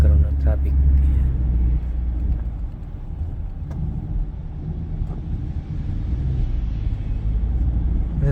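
Road traffic outside a moving car: a steady, loud low rumble of engines and tyres continues throughout, with a person talking over it.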